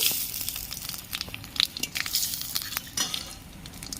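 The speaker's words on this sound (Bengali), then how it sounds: "তেলের মধ্যে আমি কালো জিরে ফোড়ন দিয়ে দিচ্ছি" Nigella seeds are dropped into hot oil for tempering a Barishal-style tel koi fish curry, crackling and spitting in short irregular bursts over a soft sizzle, close up and without talk.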